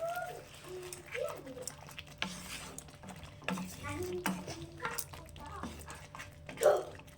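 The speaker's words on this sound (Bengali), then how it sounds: "এগুলো খুব ভালো করে মিশিয়ে নেবো" Chicken korma ingredients with garam masala, black pepper and whole green chillies being mixed in a pan: soft, intermittent stirring scrapes and light clinks, fairly quiet, with faint background noise.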